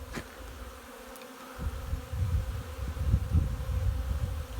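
Honey bees buzzing densely around a hive in early spring, a continuous low drone that swells louder after the first couple of seconds and stays close and steady.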